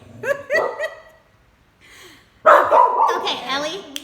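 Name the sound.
dogs barking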